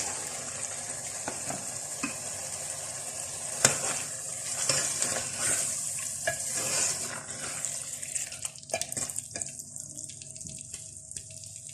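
Mutton liver sizzles and crackles steadily in a pan of hot masala, with a constant hiss broken by sharp pops and scraping stirs, close and fairly loud with no talking.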